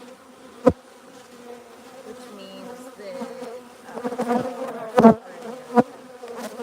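Honey bees buzzing at a hive opened during a midwinter inspection, days before Christmas, with a voice talking over a low hum and several sharp, close bursts of buzzing as bees fly past.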